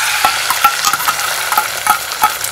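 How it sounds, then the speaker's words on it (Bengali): Eggs fry in a pan at close range with a steady sizzle, broken by repeated scraping and stirring clicks and no talking. "আমি এখন ডিম ভাজছি"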